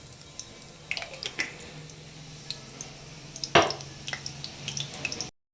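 Mustard seeds crackle in hot oil for a spicy curry, giving scattered sharp pops and ticks over a soft low sizzle, with one louder crackling burst midway.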